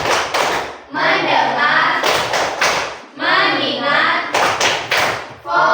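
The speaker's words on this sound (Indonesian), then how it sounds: "Sekali lagi, tepuk fokus." A classroom does the "tepuk fokus" clapping chant: bursts of sharp rhythmic claps alternate with children chanting words in unison, loud and close.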